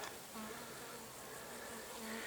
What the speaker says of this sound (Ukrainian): І більший, і менший, і кругом бджоли, бджоли, бджоли.